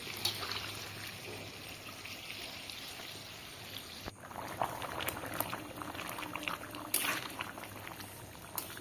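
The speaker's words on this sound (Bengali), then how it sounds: "এবার পরিমাণ মতো জল দিয়ে দেব।" Water is added to a chicken curry with potatoes, giving a steady bubbling, boiling wash of liquid that stays fairly even, with a brief pouring splash near the middle and faint kitchen clatter.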